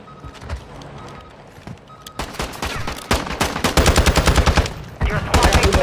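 Gunfire in the video game Warzone, with scattered single shots building into dense rapid automatic bursts, loud and close, with faint voices early on.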